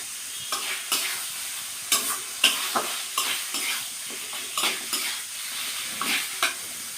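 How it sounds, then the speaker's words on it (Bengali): Pumpkin being stirred and fried in a pan for a pumpkin chhokka, with a steady low sizzle beneath repeated scraping strokes of a spatula at an irregular rhythm, close up, no voices. "এবার আস্তে আস্তে নেড়ে ফেলে এটা আর একটু ভাজা ভাজা করে নেব"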